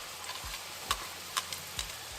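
Shredded carrot sizzles in melted butter, a soft steady frying hiss broken by several sharp scraping stirs of a utensil against the pan, close and without speech.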